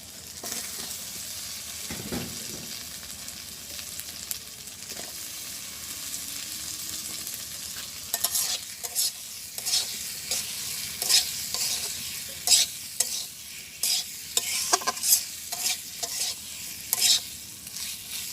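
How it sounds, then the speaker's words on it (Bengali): Eggplant pieces frying in spice paste in a village kitchen, with a steady close sizzle and repeated scraping stirs that come faster and sharper in the second half, and no talking. "আমি এখন কষানোর মশলার ভিতরে বেগুনটা দিয়ে দেব।"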